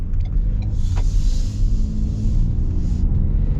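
A 2023 Ford Edge ST SUV accelerating, its engine giving a steady low rumble heard from inside the cabin, with brief whirring and wind noise laid over it.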